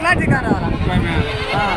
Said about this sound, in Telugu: ఇక ఈ చుక్కల మేకలు పొడ మేకలు ఉంటాయి